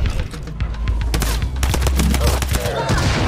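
Rapid volleys of gunfire in the survival horror game Outliver: Tribulation, a dense run of sharp cracks and bursts over a heavy low rumble, loud and close throughout.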